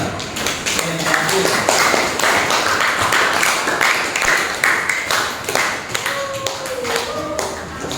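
A classroom of students claps for a group that has just presented, a dense burst of close hand clapping with a few voices talking over it.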